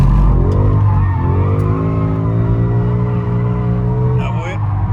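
A Ford Mustang drives hard with loud engine drone and a sustained tire skid across the whole stretch, a squeal rising near the end, with talk mixed underneath.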